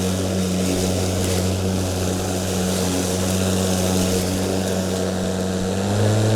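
A Ryobi 36V HP 46cm brushless lawn mower cutting grass in eco mode on its first mow, giving a steady, close, loud motor drone with a constant whirring hum and no pauses.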